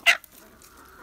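One of several roosters among a flock of hens gives a single short, sharp call up close, followed by faint low background noise.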